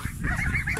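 White domestic geese and ducks, including Polish white ducks and mulards, honk and quack noisily while eating, a dense continuous clamour of close calls.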